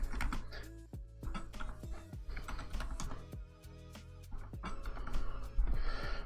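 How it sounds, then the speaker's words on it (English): Keystrokes on a computer keyboard as a username is typed during Windows XP setup, a quick irregular run of sharp clicks over a steady background hum, fairly close and continuous with no talking. "let's type a username."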